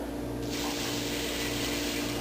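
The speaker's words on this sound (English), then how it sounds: "we're putting in a little more than a cup of water" Water pours steadily into a rice cooker pot holding rice, a continuous close rush of liquid that starts abruptly and keeps going over a low background hum.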